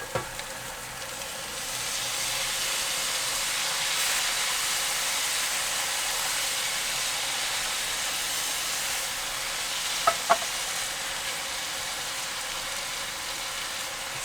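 Chili meat and freshly added tomatoes sizzle steadily in a pan on an RV stovetop, a continuous bright frying hiss with a couple of brief clinks of stirring near the end.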